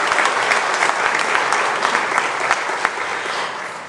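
An audience at an economic development annual meeting gives a steady round of applause, dense clapping sustained evenly throughout without voices.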